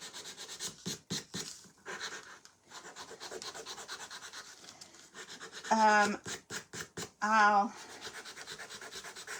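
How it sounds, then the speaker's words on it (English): A wooden sunflower decoration is sanded by hand in strokes of dry, scratchy rubbing, close and moderately loud, with pauses between passes and a person speaking between the strokes. "One more I'm going to sand right here."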